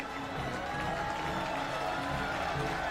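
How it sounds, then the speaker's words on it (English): Crowd applause at a FIBA 3x3 basketball Asia Cup event in Changsha, China, a continuous wash of clapping and crowd noise heard from a distance in a large arena. "Round of applause! Round of applause!"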